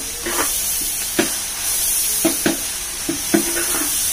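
Soft sizzle of tomatoes frying with onions for chicken biryani, with several short scraping stirs of a spoon against the pot over a steady hiss.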